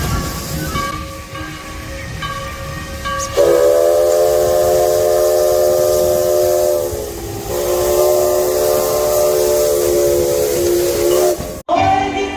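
Maria Fumaça steam train at Carlos Barbosa station, a loud, long steam whistle blowing in two extended blasts over a continuous hiss of steam, heard close by with faint earlier toots.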